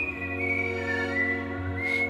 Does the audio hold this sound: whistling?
yes